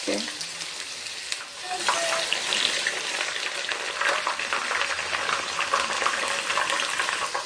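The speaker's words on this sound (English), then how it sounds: "So I will use the groundnut oil to fry this stew." Stew frying in hot groundnut oil with onions: a loud, steady sizzle and crackle filling the whole stretch, growing busier after a brief dip near the start.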